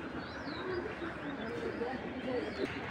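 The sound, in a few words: racing pigeon cooing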